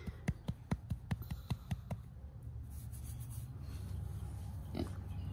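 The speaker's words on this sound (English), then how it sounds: "There's Penny Pig" A farm pig on a homestead makes a rapid series of close, sharp snorts and grunts that trail off into softer snuffling and rustling.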